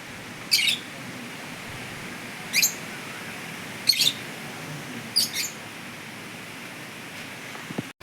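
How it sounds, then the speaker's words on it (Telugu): Short, sharp sparrow chirps come in four separate bursts spaced about a second apart, heard against a steady hiss of background noise. "పిచ్చుకలు"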